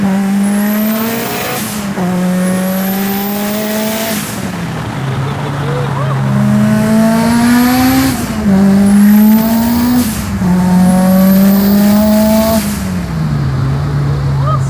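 A Mitsubishi Evo VIII tuned to 808 horsepower with 47 psi of boost accelerates hard, its loud engine climbing steeply in pitch through several gear changes, each shift dropping the revs before the next rising pull.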